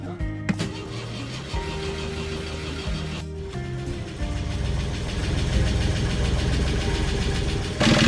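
A yacht's diesel engine cranks with a short starter whine, catches after the glow plugs heat, and settles into a loud, steady rumbling idle that grows slightly louder toward the end.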